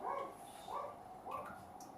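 A dog barks in a kitchen, giving three short, fairly faint barks in quick succession at moderate distance, with no one talking over them.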